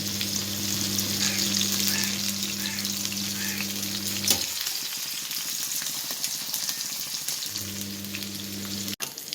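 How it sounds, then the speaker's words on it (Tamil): Small sardines roasting in coconut oil in a pan, a steady close frying sizzle with a low hum that drops out briefly midway and returns, no talking. "தேங்காய் எண்ணெயில் தான் குட்டி சாலை மீன் ரோஸ்ட் பண்ணிகிட்ருக்கேன்."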